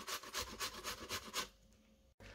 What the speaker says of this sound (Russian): Натираем на терке отварную морковь.